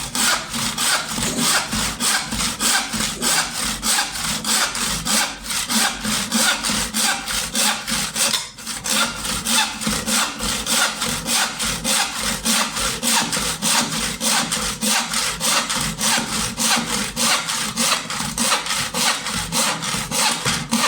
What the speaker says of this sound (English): I actually love the sound of sawing.